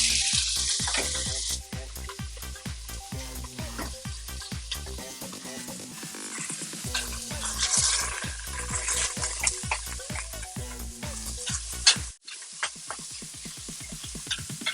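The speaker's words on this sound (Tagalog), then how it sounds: "magigisa na po tayo" Vegetables and chicken sautéing in a pan for a simmered Japanese nimono dish, a steady close sizzle with repeated clinks of a utensil stirring against the pan.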